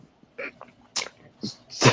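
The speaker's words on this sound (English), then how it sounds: "sorry, I'm gonna sneeze" A person sneezes in a short, sharp burst at the end, preceded by a few softer breathy catches and sniffs, close and fairly loud.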